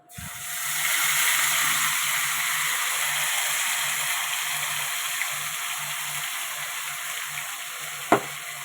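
Ginger, garlic, onion and green and dried chilli paste sautéing in a hot pan, a steady bright sizzle and hiss sustained throughout with a faint scrape of stirring near the end, no talk.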